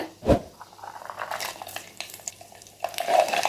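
Garlic cloves drop into hot sesame oil with fried fenugreek seeds for a mango seed kuzhambu, a thud followed by close, crackling sizzle and stirring scrapes that swell again toward the end.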